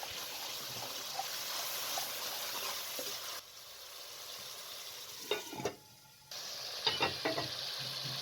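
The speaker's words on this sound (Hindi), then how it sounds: "मसाले और टमाटर अच्छे तरीके से हमने भून लिया है" Spices and tomatoes frying in a pan for pumpkin curry, a soft steady sizzle with a brief pause, then a few clinks and scrapes of stirring near the end.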